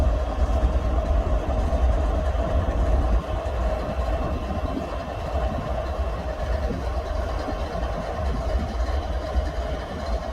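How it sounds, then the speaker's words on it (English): A lone CSX diesel locomotive, number 128, works on the CE&D Subdivision, giving off a continuous deep engine rumble with a steady mid-range drone, fairly loud and unbroken for the whole stretch. "Sometimes, only one locomotive is needed for a job, like CSX number 128 shown here."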